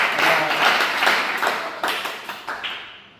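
Students clap together at a gurukul welcome ceremony honouring Sanskrit teachers: dense, bright applause with a few sharper claps near the end as it thins out and fades away.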